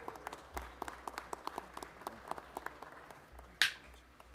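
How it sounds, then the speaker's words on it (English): Scattered, fairly faint clapping for the Center Theater Group at a Los Angeles city council meeting, with irregular claps from a small crowd in a large room and a sharper sound near the end. "Another big round of applause for our folks at the Center Theater Group."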